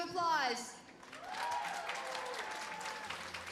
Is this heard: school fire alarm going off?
no